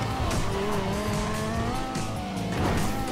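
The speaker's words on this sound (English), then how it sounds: "Drifting!" Engine roaring with squealing tires as a car drifts in the video game GTA 5, a loud continuous skid with rising and falling pitch, no talk over it.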